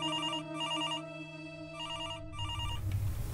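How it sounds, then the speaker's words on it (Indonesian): A telephone rings in repeated electronic trilling bursts with short gaps, clear and fairly close, fading into background noise at the end. "Telepon bunyi."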